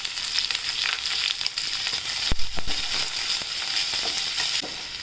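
Onion dropped into a pan of frying garlic with cumin crackles loudly and continuously, broken by a few sharp scraping knocks from stirring partway through.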